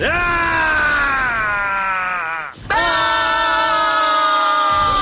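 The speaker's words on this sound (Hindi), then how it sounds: "अब सब के सब चिल्लाओ।" A group of voices in a Hindi-dubbed Beyblade cartoon yells together in one loud, sustained shout. It breaks off briefly and then resumes as a second long, strained cry.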